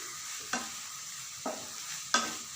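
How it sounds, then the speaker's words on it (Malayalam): Meat mixed with garam masala is stirred in a pot, giving three short scraping strokes spaced about a second apart over a faint steady sizzle, close and fairly quiet, with no talking. "മിക്സാക്കുന്നു."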